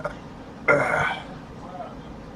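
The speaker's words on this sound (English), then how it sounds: "Burping." A single loud burp of about half a second stands out against a quiet room background, with faint low sounds before and after.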